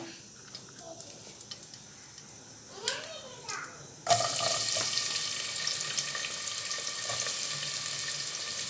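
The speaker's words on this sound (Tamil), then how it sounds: "ஒரு நூறு கிராம் வெங்காயத்தை போட்டு வறுத்து வறுத்து எடுத்துக்கலாம்" About a hundred grams of onions go into a pan for mutton biryani: after a quiet stretch with a brief muffled sound, a loud, dense frying sizzle bursts in halfway and holds steady to the end.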